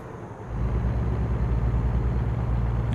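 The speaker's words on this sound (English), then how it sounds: "let you listen to that engine" A Freightliner Columbia truck engine in American Truck Simulator rumbles steadily, with a low, loud drone that swells slightly after a moment and then holds even throughout.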